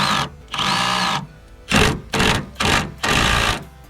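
A power drill whirs in several short bursts, revving up and stopping repeatedly, close and fairly loud with brief pauses between, drilling bolt holes on a 2017 Toyota Tacoma.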